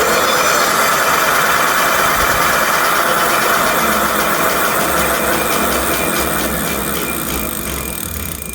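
A 1000 watt e-bike hub motor on a 52-volt setup spins freely with no load, giving a steady, close, continuous whine and hum that holds level throughout, with no talking.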